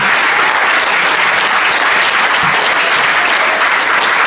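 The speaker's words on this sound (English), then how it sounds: "Just one round of applause, last round of applause for our top 3 in the 100." A crowd at the Arc of Attrition 2024 ultramarathon awards ceremony gives loud, dense, sustained applause that stays steady from start to finish, with no pauses.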